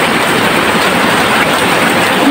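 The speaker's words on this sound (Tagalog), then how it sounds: "Lakas ng ulan, grabe." Heavy rain pours down steadily during outdoor cooking over an open fire, a dense, loud, unbroken hiss of drops that fills the whole moment with no voices.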